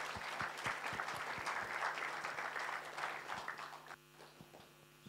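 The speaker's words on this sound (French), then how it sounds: "Qu'on peut applaudir" An audience at a live event applauds, with a steady crowd patter over a low electrical hum and a few close, sharp individual claps, fading out to scattered claps near the end.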